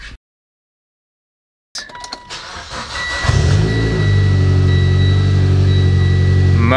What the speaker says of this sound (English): All right, let's go start up the car.